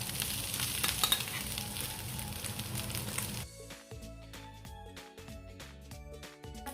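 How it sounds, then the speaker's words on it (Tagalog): Chicken pieces frying in hot cooking oil in a pan, a loud, steady crackling sizzle for the first half that cuts off abruptly into a quieter, sparser run of pulsing sounds. "Once it's a little bit hot, then I have to pour my chicken."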